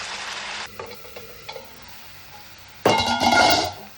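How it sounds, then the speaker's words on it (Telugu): Tomato puree frying with ginger, garlic and onions for a country chicken liver fry, a soft sizzle with a few stirring clinks, then a louder burst of hissing and scraping near the end. "ఇది కూడా దీంట్లో వేసి కొంచెం సేపు వేగనిద్దాం"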